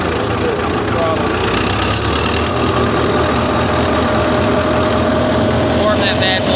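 A small Wisconsin engine on an old wood chipper idles steadily and loudly up close, a constant knocking rumble with no pauses.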